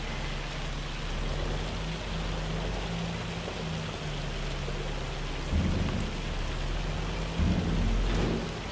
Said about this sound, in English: The hail does look good, I must say.